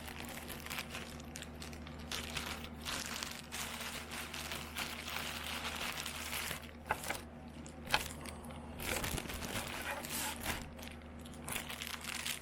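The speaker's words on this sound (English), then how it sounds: "Sorry about all the rustling noise. I should have opened these up first." Plastic packaging around network cables crinkles and crackles steadily while being torn open by hand, close and continuous with a few sharper crunches, over a constant low electrical hum from nearby equipment.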